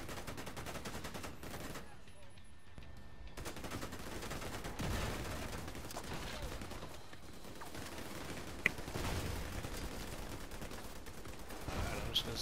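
Enemy gunfire in The Division 2, a dense, continuous stream of shots and impacts from a foundry setting, with a loud crack standing out near the end.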